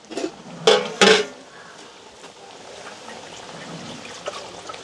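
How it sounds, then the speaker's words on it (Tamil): Milk poured into a cooking pot in a village kitchen, with a couple of loud clanks from the pot and utensils near the start, then a soft, steady trickle and low rustling. "இப்போ என்ன செய்ய போகிறோம்னா கொஞ்சமாக முதல் பால் மட்டும் விடுவோம்"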